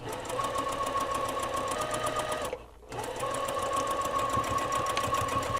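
A sewing machine stitches a dress sleeve seam in two continuous runs of fast, even needle rattle, split by a brief pause, close and loud.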